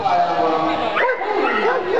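A dog at a zoo-type outdoor setting yips and barks in quick excited bursts, close by and loud, with people talking over it.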